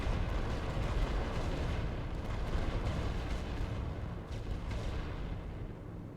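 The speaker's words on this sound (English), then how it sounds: "A lot of artillery." Artillery fire on a World War I western front battlefield in the game The Great War: Western Front, a continuous loud rumbling barrage of overlapping booms with no voices.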